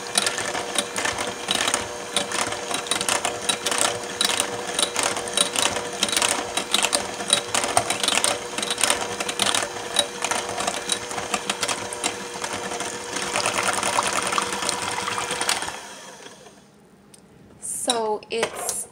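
Electric hand mixer whipping a batch of cocoa butter and sweet almond oil into body butter, a steady whirring churn with rattling beater clicks that runs for about fifteen seconds, then cuts off into near quiet.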